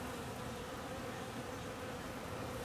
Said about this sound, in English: It's got to be 100 bees